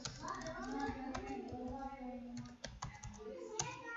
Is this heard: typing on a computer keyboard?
yes